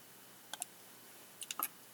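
A computer mouse button clicks at a desk: two quick, quiet clicks, a pause, then a short cluster of three or four more, heard close against faint room hiss with no talking.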